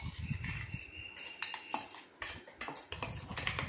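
Metal spoon scraping and clinking against a steel mixer grinder jar while clearing out ground curry leaf paste, a busy run of close, sharp scrapes and taps with no talk.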